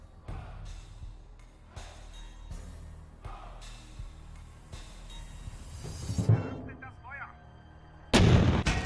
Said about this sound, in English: Was that a Stug? I think it was. Assault gun.